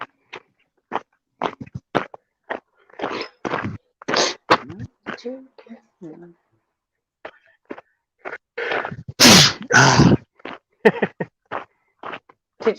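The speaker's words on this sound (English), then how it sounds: "Cleaning my nose out." A loud, wet nasal blast of someone clearing their nose without a tissue, surrounded by chatter and small clicks and knocks.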